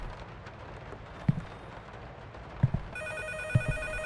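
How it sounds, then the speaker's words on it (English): A phone rings in a video game apartment, an electronic ringing tone that starts in the last second and repeats in even pulses over low background rumble and a few dull thuds. "That bloody phone again."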